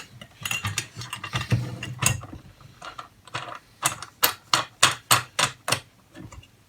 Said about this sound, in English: Tighten up the bolt, and lo and behold, yes, it tightens it up.